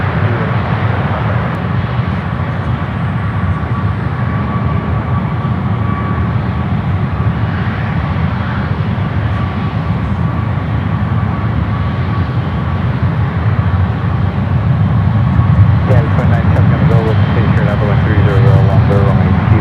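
A jet airliner taxis at San Francisco airport, its engines giving a loud, steady roar that barely changes across the stretch, with brief radio chatter near the end.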